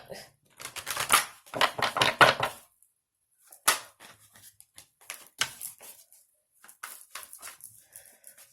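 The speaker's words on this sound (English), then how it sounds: "Let's pull a few more oracle cards for you." Oracle cards being shuffled during a tarot reading, a run of dense riffling bursts with short pauses between them, close and fairly loud, with no voices over them.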